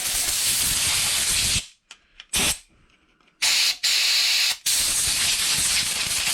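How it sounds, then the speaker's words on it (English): Compressed air blasts loudly through the blocked fuel filters from a Kawasaki GPz400r's carburettors, a long hissing burst, a few short puffs, then two more sustained blasts close by. "So we'll give it a bit of a blowout."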